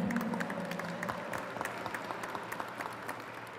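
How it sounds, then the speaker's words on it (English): Audience applause at a Hispanic Heritage Month closing ceremony honoring advisory board members, a steady wash of many hands clapping at moderate volume, sustained throughout with no talk over it. "Round of applause to these amazing Hispanic Advisory Board members."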